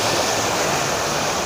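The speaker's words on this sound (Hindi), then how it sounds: "काफ़ी यहाँ पर आपको साउंड भी सुनाई दे रहा होगा इस पानी के बहाव का" River water rushing below a canal wall on a cold morning, a dense steady roar that stays close and constant, with no voices.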